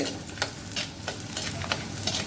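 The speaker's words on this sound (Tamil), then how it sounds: "அதையும் போட்டு நல்லா வறுத்துக்கிறோம்" Garlic sizzles steadily in a hot pan while frying for pirandai (adamant creeper) chutney, with light scraping stirs and small crackles popping over the hiss.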